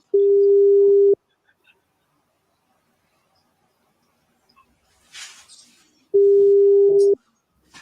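A phone call to someone on a train rings out unanswered, with two loud steady ringback tones about five seconds apart over near silence and faint rustling between them.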